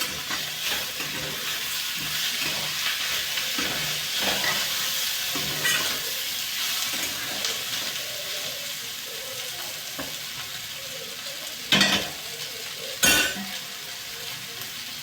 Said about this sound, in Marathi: आणि कांदा आणि कारली हे सोबत शिजू द्यायचं आपल्याला.